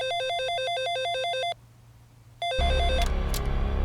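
A telephone rings in a dramatic film scene, its repeated warbling electronic tone pulsing steadily, cutting off into a pause, then starting again before a loud burst of other sound swamps it.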